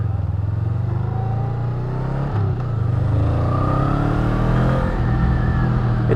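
A 2019 Honda Rebel 500 motorcycle with a 500cc engine pulls hard under acceleration, its loud steady engine drone rising in pitch with a brief dip mid-run, heard from the rider's position with wind rush.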